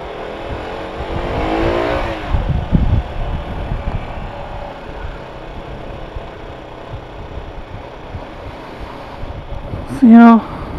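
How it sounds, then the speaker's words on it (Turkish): Wind rushes past while riding a Mondial Rx3i Evo motorcycle through town streets near a shopping mall, with car traffic rumbling steadily. A passing vehicle swells early on and a brief tonal beep or horn sounds near the end. Someone talks intermittently. "Trafik başladı yavaştan."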